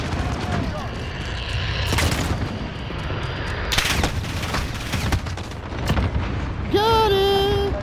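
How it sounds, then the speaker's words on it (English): Bursts of automatic gunfire in Call of Duty: Modern Warfare multiplayer, loud sharp volleys with booming impacts repeating through the clip, ending in a rising electronic tone. "I'm literally putting fucking 50 bullets in him"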